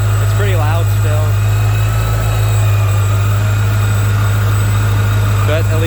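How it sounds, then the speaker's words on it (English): A cold Mercedes W211 E55 AMG engine idles loudly and steadily with a deep, constant drone throughout, while someone talks briefly over it near the start and end. "The engine's pretty cold. It's pretty loud still"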